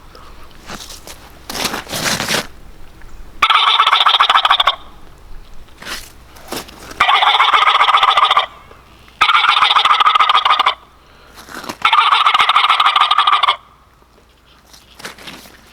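Turkey gobbling made with a mouth call, in four loud bursts separated by short pauses, with softer rasping breaths between them.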